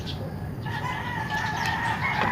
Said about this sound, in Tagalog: yung mga ibon at saka manok